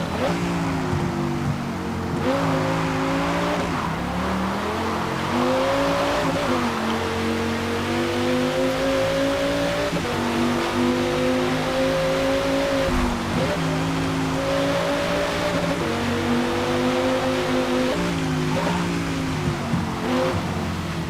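Dodge Viper ACR race car, modified for a V10 championship, roaring through a final lap in a racing video game, its engine holding a steady high drone with repeated rising gear-shift sweeps, loud and continuous throughout.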